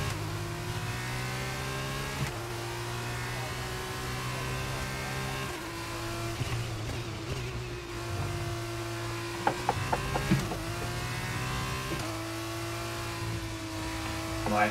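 An F2 race car on track in F1 22 drones loud and steady through several gear changes, with a few sharp clicks and clatters near the end and no talk over it.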